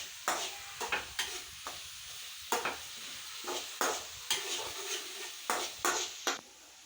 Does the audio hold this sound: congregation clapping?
no